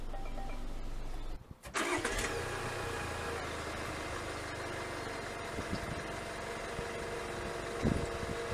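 A 2020 Jaguar F-Pace 20d diesel starts by push button: a brief starter crank gives way to the engine catching, then a steady, close mid-pitched idle with a light rumble continues to the end.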